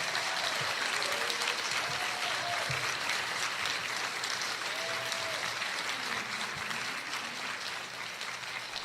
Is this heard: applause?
yes